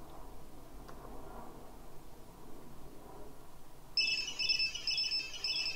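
A Zumo robot's buzzer, driven from MATLAB through an Arduino, sounds as short high electronic beeps in the last two seconds, following a stretch of quiet room noise.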